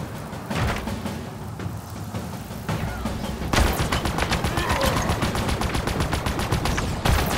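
Rapid automatic gunfire in the Halo Infinite campaign on Xbox Series X: scattered shots at first, then dense, sustained bursts of loud, sharp reports that carry on to the end.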